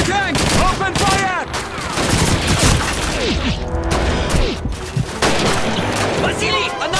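Sustained MG-42 machine gun fire with explosions in a Call of Duty 2 battle in a town square, dense overlapping bursts and booms throughout, loud and close, with shouted voices mixed into the fighting.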